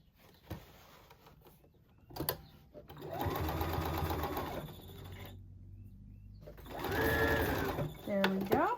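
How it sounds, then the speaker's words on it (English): A sewing machine stitching across fabric straps runs in two loud mechanical bursts of rapid needle chatter, separated by pauses and handling noises, close up. "Just going to do 1 stitch across."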